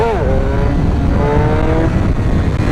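A motorcycle engine revs hard through a choppy wheelie, a loud close roar with pitch dipping and rising as the throttle is blipped on and off.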